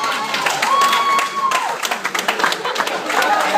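Wedding guests clap during a best man speech, a dense burst of applause under a voice that talks over it throughout.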